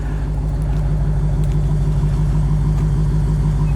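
A 2022 Dodge Challenger Hellcat idles close by, a steady, loud, deep engine rumble with an even pulsing beat and no other sounds over it.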